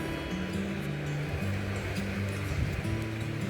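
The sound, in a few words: waves on the beach at Caorle, Italy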